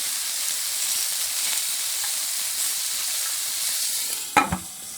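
Pork frying in a pan as the base for kimchi stew gives a steady, even sizzle that holds at the same level throughout, with a brief louder clatter of stirring near the end.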